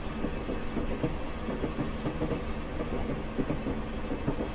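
A Class 37/4 diesel locomotive runs on the Mallaig to Fort William line in Train Simulator Classic, its wheels beating a steady, repeating clickety-clack over a continuous low engine rumble, with no voices.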